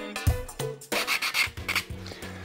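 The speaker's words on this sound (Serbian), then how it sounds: "Izrezane oblike obradite brusnim papirom" Sandpaper is rubbed by hand over cut plywood cloud shapes in short, uneven rasping strokes, close and fairly loud, with brief pauses between passes.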